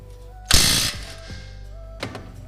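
A Nissan 370Z brake caliper bolt is worked loose by hand, giving a loud grinding ratchet burst, a few softer clunks, then another brief clack of the tool, up close in a quiet garage.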